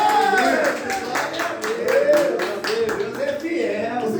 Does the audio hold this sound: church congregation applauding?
yes